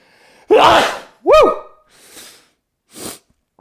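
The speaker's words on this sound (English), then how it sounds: "Oh, I got a sneeze building. It's coming." A sharp intake of breath builds into a loud, explosive sneeze, followed by a softer breathy exhale and a smaller trailing sniff.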